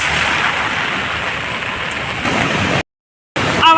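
Heavy rain pours near the Kosi barrage in Uttarakhand as a loud, continuous hiss, broken by a brief silent gap near the end before it resumes.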